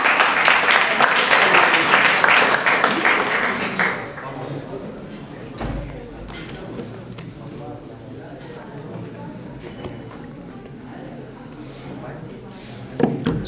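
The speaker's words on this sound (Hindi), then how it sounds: "ज़ोरदार तालियों के साथ स्वागत करें उनका" Loud applause from an audience fills the first few seconds, then fades into quieter room noise with scattered small sounds.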